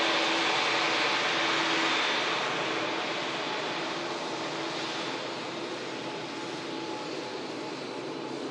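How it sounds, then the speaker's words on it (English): A Cessna Skyhawk light aircraft passes with a steady engine drone and broadband rush, loud at first and easing slightly as it moves away. "Seen the Reams Cessna there. Skyhawk."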